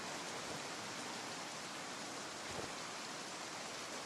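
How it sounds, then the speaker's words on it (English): Steady rainfall outdoors in the video game Project Zomboid, a dense, even wash of noise that holds without change throughout, quiet and with no talk over it. "It's really raining and wet outside."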